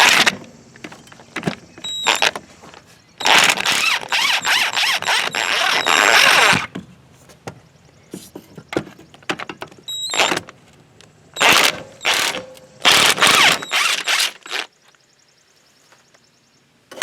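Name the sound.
ratchet removing alternator bolts on 2004 Ford Sport Trac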